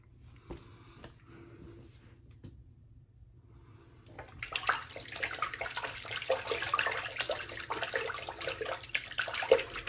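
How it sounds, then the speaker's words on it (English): A shaving brush gets a final rinse under hot running water from a tap, a steady hiss that starts around the midpoint and runs loud to the end after quieter handling noises. "Final rinse in hot water of my brush, make sure it's good and clean."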